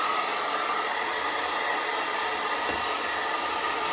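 A hair dryer blows steadily on a stocking, a continuous loud close-up whoosh and whir that holds without pause, with no voices over it.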